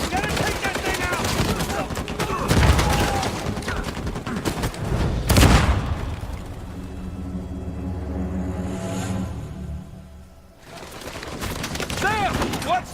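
Dense, rapid turret machine-gun fire rattles through a firefight in the Uncharted 4 video game, with heavy booms and a continuous rumble, while voices shout over the shooting.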